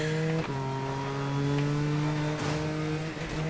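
A car engine and exhaust in the Need for Speed Most Wanted racing game rev with a steady, tonal drone, briefly dipping twice as the revs shift.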